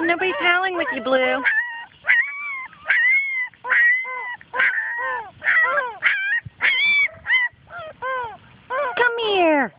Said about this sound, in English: Well, nobody's howling with you, Blue.